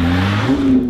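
A Lotus Exige 380 supercar engine hums loudly and close during a test drive, its pitch stepping up briefly in a short rev.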